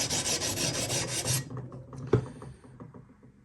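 A file rasps in quick, even strokes across the frets of a Japanese Stratocaster during levelling, loud and close for about a second and a half, then a sharp knock and a few fainter scrapes.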